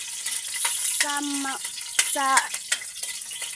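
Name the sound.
garlic sizzling as it fries in a pan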